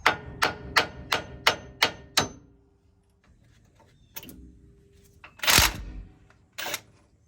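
Sharp hammer blows while removing cotter pins and a tie rod from a vehicle's steering, a quick run of seven evenly spaced loud strikes followed by scattered clanks and a few heavier hits after a short pause, with no talking.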